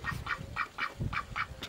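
Ducks on a small self-sufficient homestead farm quack in a steady series of about eight raspy calls, close by and fairly loud, with no talking.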